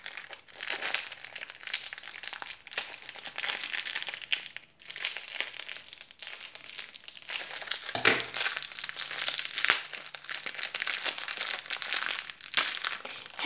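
Crinkling and crumpling of a slime ingredient packet being handled and torn open, a steady close-up plastic rustle lasting throughout with a brief pause midway.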